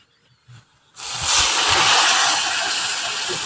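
Water poured into a hot pan of spiced vegetable curry sets off a sudden loud hiss of sizzling steam after a few soft knocks, then a sustained, roaring fizz that holds steady to the end.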